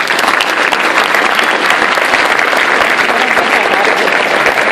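Dense, loud, sustained applause from an audience at an award acceptance ceremony, close and continuous with no pause for its whole length.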